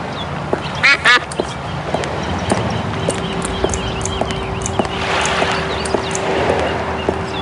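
Ducks quack in short nasal bursts near the start in Escape From Monkey Island, over a busy pier soundscape with clip-clop, water and a steady hum, and the quacks soon give way to ambient bustle.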